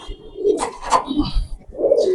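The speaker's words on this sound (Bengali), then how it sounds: "এখানে আছে এক পিস কবুতর ভাই" Pigeons at a large pigeon farm in Mirpur coo in a few soft, rolling bursts, close by and fairly clear against a quiet background.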